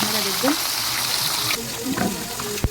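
Fish head frying in an oil-filled pan for a Bengali muro ghonto, a steady close sizzle with brief stirring clatter and a sharp knock near the end.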